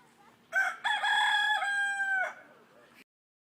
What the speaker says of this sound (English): That is like the most like cartoon rooster noise I've ever heard.